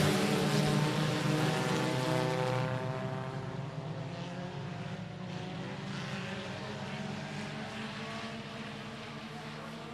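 Tuner class race cars roaring off the start at I-37 Speedway, a loud, dense wall of engine drone with layered harmonics that eases slightly as the field pulls away, then holds steady.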